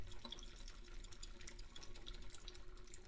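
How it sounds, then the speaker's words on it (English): Water pours through a strainer for ramen, making a soft, continuous splashing trickle with small drips, quiet and close, with no voices. "So we're just straining out the water is all we're doing."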